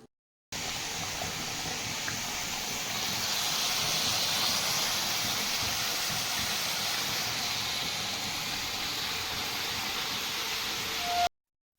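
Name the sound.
pressure cooker hissing steam while cooking dal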